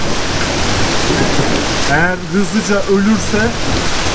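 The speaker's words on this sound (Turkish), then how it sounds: "buradaki bu yağmura doluya çıkamam" Heavy, steady rain and hail pour hard across a surface, a dense wash of noise while a person speaks briefly over it.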